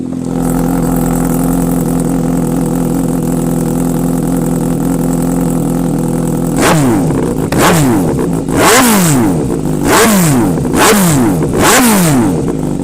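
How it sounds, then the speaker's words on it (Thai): A Suzuki GSX-S750 motorcycle with an aftermarket exhaust idles with a loud, steady drone, then revs sharply several times in quick succession, each blip rising and falling, close by. "เสียงท่อก็จะออกลั่นๆสไตล์โซหน่อยนะครับ"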